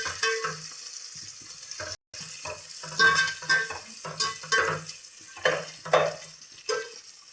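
Onions and green chillies frying in a pan for bagara rice, stirred with a spatula: repeated scraping strokes over a soft steady sizzle, close and clear with no talking.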